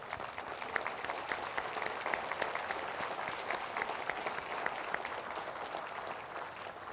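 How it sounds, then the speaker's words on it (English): Steady round of applause from a luncheon crowd honoring Sun Corridor staff at a 2019 annual business luncheon, dense clapping sustained for about seven seconds at moderate level with no speech over it. "So if I could get the Sun Corridor staff to stand up and give them a round of applause"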